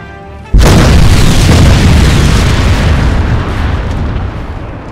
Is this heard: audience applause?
no